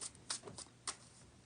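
A deck of cards is riffled and bridged in a quiet room: a few crisp, fast fluttering bursts spaced apart, close and soft.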